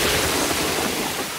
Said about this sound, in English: There's a waterfall coming out of the sink.